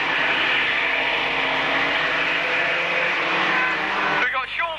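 A van engine over-revving during a van race at a Braintree Auto Club meeting, a loud sustained high-pitched roar that drops off at the end, with a commentator talking over it.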